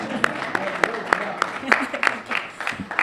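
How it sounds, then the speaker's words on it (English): A reception audience claps at a STEM and innovation welcome event, sparse individual claps popping out irregularly across a few seconds over a busy room background, moderately near. "give a round of applause for that"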